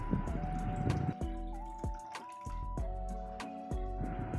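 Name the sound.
pouring water into egg curry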